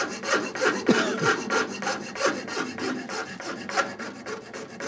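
A handsaw bites into wood while a saw handle is being shaped, giving a rhythmic rasping cut with stronger push strokes, close and steady, with no talking.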